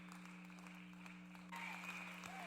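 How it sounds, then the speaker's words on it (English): A small group gives a brief, faint round of clapping in a podcast studio, thin and quiet against a steady electrical hum. "Nice little applause."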